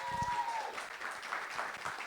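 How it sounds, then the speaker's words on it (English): Round of applause from an audience, soft and somewhat distant clapping with a faint crowd murmur, sustained evenly for a couple of seconds. "Let's give them a round of applause."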